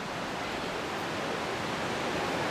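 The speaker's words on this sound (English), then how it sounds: "And here you can hear the waterfalls." Tallulah Falls pouring below a suspension bridge, heard as a constant, even roar of rushing water with no other sounds.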